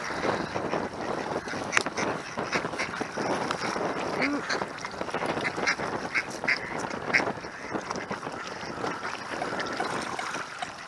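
Wild dabbling ducks in Seattle quacking in a steady, busy chorus near the listener, with water and outdoor ambience underneath and occasional louder calls.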